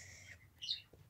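Pet birds indoors giving a few faint, quick chirps and tweets, one brief brighter call standing out midway, close and quiet with no talk.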